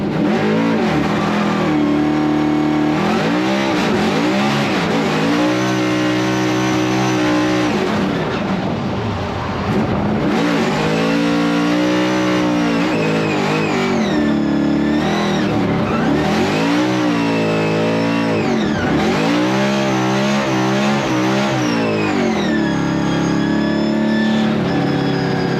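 A Ford Mustang RTR Formula Drift car drives continuously with a loud, close engine note that rises and falls with repeated revving and shifting throughout, with no talking.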